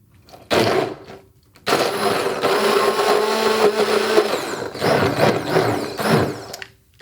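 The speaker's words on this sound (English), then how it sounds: "the next step is to use the immersion blender to make this into a very fine mass" An immersion blender purees cooked spinach into a fine mash, loud whirring bursts starting and stopping, with a brief pause before a long continuous run and a couple of dips.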